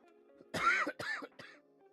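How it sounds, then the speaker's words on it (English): A couple of close, short coughs in quick succession, throaty and fairly soft, with a faint background hum. "I don't know where that cough came from."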